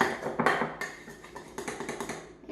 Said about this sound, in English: so I just got to stir it so I don't have any clumps